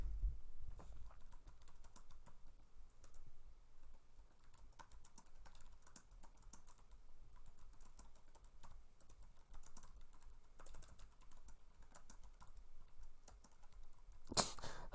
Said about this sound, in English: I have no clue what I'm typing in